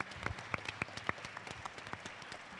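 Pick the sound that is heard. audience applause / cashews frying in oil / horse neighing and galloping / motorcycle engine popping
audience applause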